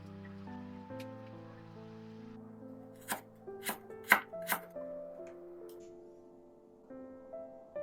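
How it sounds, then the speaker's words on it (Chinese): A knife cuts carrot into willow-leaf shapes in a kitchen: four crisp, close chopping strikes land in quick succession over soft, steady background music. "接下来用胡萝卜做一个柳叶形花刀"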